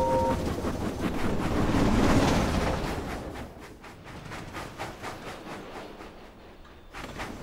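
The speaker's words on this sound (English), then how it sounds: "Toby steamed slowly through Sodor." A steam tram engine chuffing steadily along a railway, a continuous rhythmic rumble that swells early then settles into regular puffing beats.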